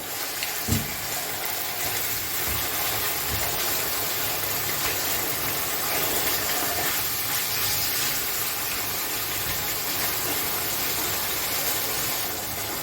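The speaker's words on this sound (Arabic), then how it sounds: "هنزل بقطع الفراخ بتاعتي كده الاول." Chicken pieces fry in a pan with a couple of spoons of oil, giving a loud, steady, close sizzle that runs without a break after a brief thump at the start. No one speaks.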